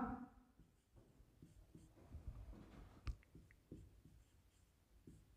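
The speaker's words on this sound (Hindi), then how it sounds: "बस देखिए मैं क्वेश्चन लिखता हूं।" Chalk or marker writing a chemistry question on a classroom board, with soft scratching strokes and taps in an uneven rhythm, close and quiet with no talking.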